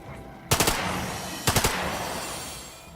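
Gunfire in the video game The Lamplighters League, two short bursts of three or four rapid, loud automatic shots about a second apart over a steady ambient background hum.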